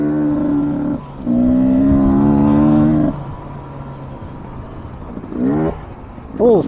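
A 2023 Beta 300 Race Edition two-stroke motorcycle engine climbs and drops in pitch through several bursts of acceleration, loud and close, with a brief high rev near the end.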